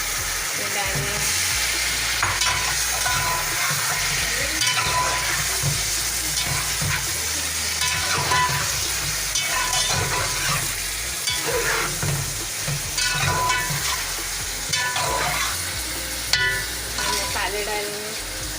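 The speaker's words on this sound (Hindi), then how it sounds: "5 मिनट इसको फ्राई कर देंगे चिकन को अपनी तेज़ आंच पे।" Chicken and tomatoes frying over high heat, a dense steady sizzle with scraping stirs repeating throughout, close and loud, with no one talking over it.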